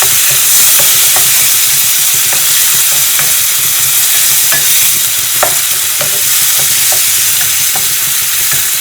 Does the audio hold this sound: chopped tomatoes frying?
yes